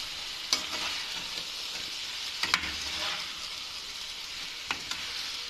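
Chicken and mixed vegetables stirred in a pan over a steady low sizzle, with three or four sharper scrapes of the spoon against the metal.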